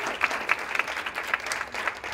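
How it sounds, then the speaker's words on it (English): An audience at a climate justice community event gives a modest round of applause, scattered claps repeating steadily at moderate distance without any voices over them. "So let's give them a round of applause."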